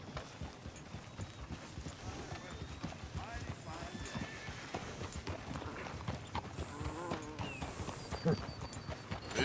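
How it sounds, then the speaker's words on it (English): Horse in Red Dead Redemption 2, hooves clip-clopping steadily with a whinny, fairly close in a busy game scene as people talk over it. "That's a nice horse."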